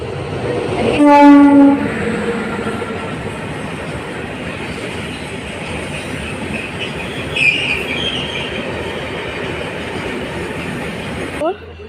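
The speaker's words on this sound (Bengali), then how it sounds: "ট্রেনটা চলে গেল" A train horn blares near the start, then a loud rumbling train rolls past with rattling wheels and a brief squeal before it fades.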